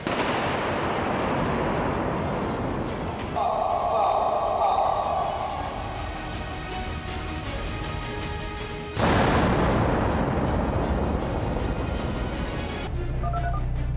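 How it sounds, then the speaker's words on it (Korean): Repeated heavy blasts from mines and explosive charges at an army engineer training range, loud booming detonations with rumbling decay, one strong blast partway through and another at the end, heard in the open without talk. "훈련장의 지축이 흔들릴 만큼 위력적인 폭발입니다"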